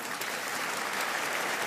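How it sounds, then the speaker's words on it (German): A studio audience on a German television show gives a short burst of dense, steady applause, loud and close, with no talking over it. "Dein Applaus nochmal."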